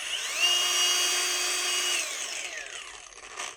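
An AEG 18V cordless drill with soft start spins up and whines steadily at a high pitch, then winds down with a falling tone, sounding close and alone.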